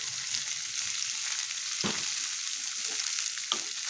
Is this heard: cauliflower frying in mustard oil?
yes